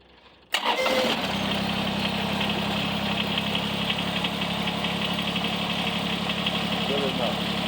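A Kubota BX23S tractor's diesel engine cranks briefly, catches with a sudden loud start, then settles into a steady, close, even idle that runs on alone.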